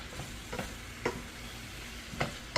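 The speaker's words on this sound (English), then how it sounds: "And then we're going to stir it up." Sweet potatoes being stirred in avocado oil in a hot pan, a steady soft sizzle broken by a few scraping strokes of the utensil at irregular intervals, close and fairly quiet with no talking.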